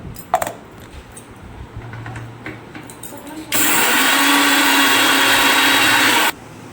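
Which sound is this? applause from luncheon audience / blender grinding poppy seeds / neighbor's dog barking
blender grinding poppy seeds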